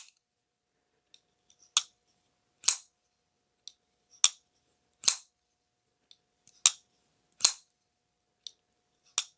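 Sharp metallic snaps repeat in pairs, a Tempest Knives Fractus folding knife blade flicking open and locking, crisp and close, with faint small clicks between.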